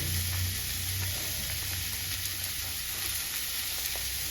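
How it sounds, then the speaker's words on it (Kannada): Curry masala mixed with coconut powder frying in a pan for a chicken curry, a steady, moderately quiet sizzle with faint stirring, no voices. "ಎಲ್ಲ ಸೇರಿಸಿ ಚೆನ್ನಾಗಿ ಹುರ್ಕೊಳ್ಳಿ"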